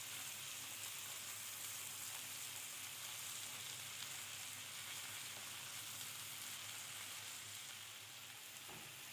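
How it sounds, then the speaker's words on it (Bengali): Prawns fry in a pan after being turned to cook the other side, giving a steady, close sizzling crackle with a faint stir or scrape near the end and no talk. "এক পাশ ভাজা শেষে উল্টে অপর সাইডটাও ভেজে নেব"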